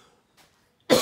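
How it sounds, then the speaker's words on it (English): A single sharp cough bursts out near the end after near silence, loud and close. "Cough, cough, no I don't."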